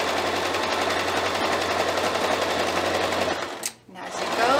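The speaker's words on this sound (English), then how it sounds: "one stitch along this side of my twill tape, and then another stitch along this side of my twill tape" Sewing machine stitching along twill tape on a towel apron, a fast steady mechanical whir running continuously, then briefly stopping before resuming near the end.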